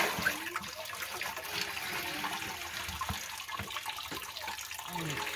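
Water draining away from a household basin or container gurgles and trickles steadily, with small sloshing bursts and a faint background hiss.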